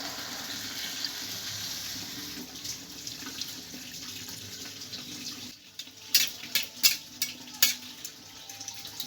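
Water poured into a frying Malabar spinach curry in a pan, a soft steady sizzle that gives way to a burst of splashing and bubbling hiss, close and unaccompanied by speech.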